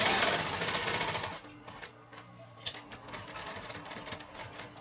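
A sewing machine stitching the side seams of a simple backpack, a quiet, rapid mechanical chatter that runs in short bursts with brief pauses, close by and alone.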